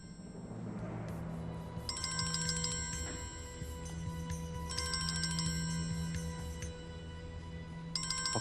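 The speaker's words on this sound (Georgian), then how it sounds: "ტელეფონს უპასუხე." A telephone rings in repeated bright electronic bursts, three separated ring phrases over a quiet indoor room tone, with no one speaking.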